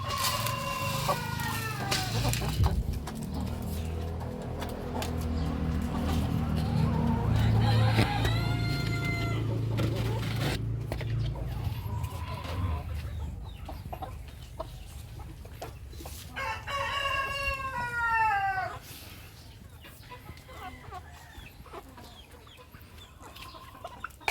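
Chickens and roosters at morning feeding cluck and squawk up close, with several loud rooster crows rising out of the flock over a constant background of chatter and rustling.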